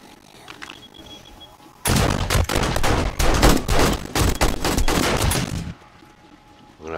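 Rapid automatic gunfire in the zombie survival game 7 Days to Die bursts in loudly and continues in a dense, sustained barrage for about four seconds before cutting back to quieter background ambience.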